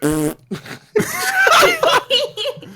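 A voice blows a wet, buzzy raspberry imitating a fart, short and loud, followed by giggling and snickering laughter from several people.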